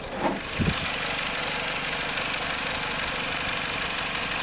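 The 2-liter engine of a 2016 Jeep Compass automatic with 87K miles settles into a steady, close idle after a brief start-up rumble, smooth and continuous.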